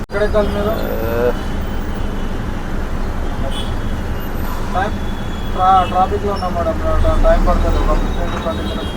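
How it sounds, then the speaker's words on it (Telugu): Heavy traffic on a Hyderabad road near Kondapur, a continuous loud rumble of cars, buses and trucks close by, with voices talking and occasional horn-like tones over it. "ట్రాఫిక్ అయితే ఫుల్ ఉంది"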